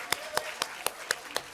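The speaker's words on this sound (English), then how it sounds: "let's give a round of applause to ourselves for that message" A few people at a literacy symposium in Newark clap for themselves, six sharp claps at an even rhythm, sounding thin and a little distant, like a small scattered crowd with no voices over it.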